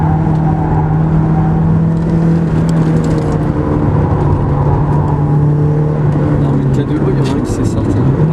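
A Porsche race car engine runs at Magny-Cours race track in 2012, giving a loud, steady, close droning hum that holds throughout, with faint voices in the background.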